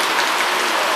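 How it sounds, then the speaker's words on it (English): Heavy rain pouring down steadily outdoors in a park, a loud, dense, unbroken hiss of drops drumming on surfaces, with no voices. "Raining real hard."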